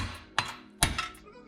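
Two sharp metallic hammer strikes knocking out suspension bushings on a Mazda Miata, close and loud, each ringing briefly before fading, with a lighter clink between them.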